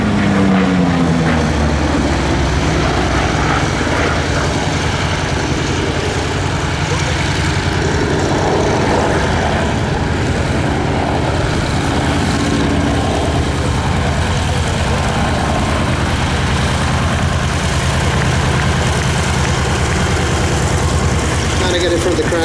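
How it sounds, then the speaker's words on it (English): A yellow-nosed Vought Corsair propeller fighter taxis in at an airshow, its engine a steady, loud rumbling drone close by throughout, with a commentator talking over it. "wave at Brian as he taxes in the yellow-nosed Corsair"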